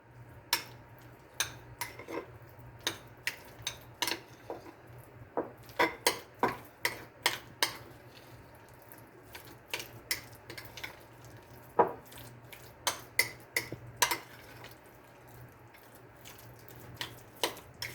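A spoon stirs refried beans with taco seasoning in a bowl, giving sparse, irregular scraping clicks and taps against the dish, fairly faint and close, with no voices.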